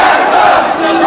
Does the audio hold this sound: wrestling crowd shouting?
yes